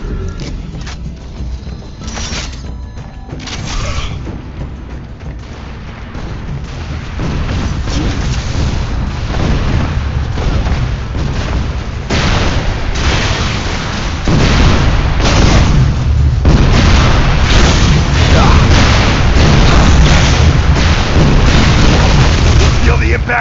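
Gunfire and explosions in the video game Unreal Tournament 3, a dense, loud, continuous barrage of shots and booming blasts that grows heavier over time.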